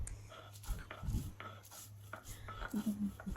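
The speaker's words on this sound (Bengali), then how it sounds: "মরিচটা ভালো করে বেটে নিচ্ছি আগে, নাহলে ঝাল আরো বেশি লাগবে।" Chillies are ground by hand, likely on a grinding stone, with soft close scraping and rubbing strokes in an irregular rhythm over a low steady hum.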